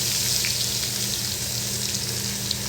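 Grated ginger and garlic sizzle steadily in hot oil with curry leaves and asafoetida for a dry cluster bean stir-fry, a continuous close frying hiss with no talk.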